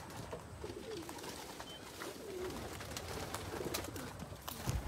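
Racing pigeons just home from a long race coo softly and repeatedly in the loft, a low murmuring chorus mixed with faint rustling and small knocks nearby.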